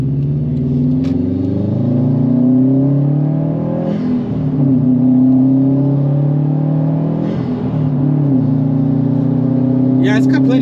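A 2020 Subaru WRX STI engine pulls harder while driving, its rising turbocharged drone building steadily from inside the cabin, with a brief dip at a gear change and people talking over it.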